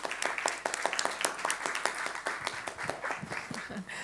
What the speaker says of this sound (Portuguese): eu peço uma salva de palmas para ela e para todos vocês aí